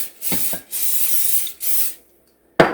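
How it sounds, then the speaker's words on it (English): Three long hissing bursts from a cooking oil spray can onto a hot pan in quick succession, a few soft clicks between them, then a short sharp sound at the end. "We're going to give it a good spray."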